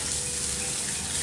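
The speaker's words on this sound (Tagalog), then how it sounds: "Ayan, shower." A shower runs at a beach resort in Carles, Iloilo, producing a short, even hiss of falling water at moderate loudness with no speech.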